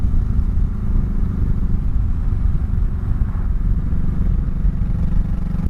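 A 2004 Honda Sabre 1100 motorcycle engine pulls hard at full throttle in second gear, a loud, steady, close low rumble with a rough mechanical edge that holds for the whole stretch, with no talking.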